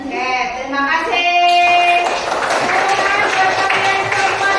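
Children in a classroom clap together in a sustained, fairly loud burst of applause, with music or a tonal backing and some voices running underneath.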